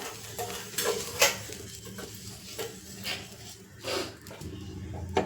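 Coconut oil is wiped over a hot dosa griddle on the stove, with a soft sizzle beneath repeated scraping and rubbing strokes that come up close in an uneven rhythm.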